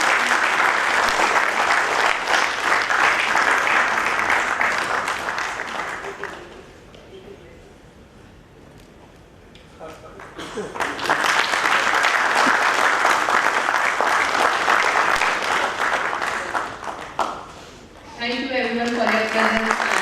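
Audience at an HR convention breaks into dense, sustained applause that fades to a lull partway through and then swells again to full loudness.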